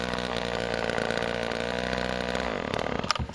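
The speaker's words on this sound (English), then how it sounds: "He's idling now." A chainsaw engine, just adjusted at half choke, idles with a steady buzzing drone that falters and sputters near the end, close and loud with no talk.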